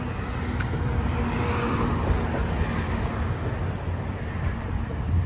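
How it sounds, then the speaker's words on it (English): Road traffic passes a front garden as a steady broadband roar and wash of tyres and engines, fairly loud and continuous, with no voices over it. "lot of traffic on my road sometimes"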